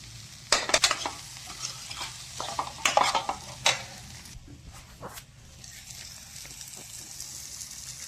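Eggs fry in a pan as a soft sizzle runs throughout, broken by sharp scraping and stirring knocks from a utensil, with occasional voices in the background.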